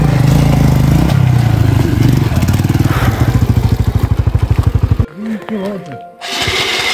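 A motorcycle rides over a rough, bumpy road on the way to Dhorpatan, its engine loud and close with a rapid pulsing beat that stutters over the bumps, then cuts out briefly before a voice speaks and the engine returns.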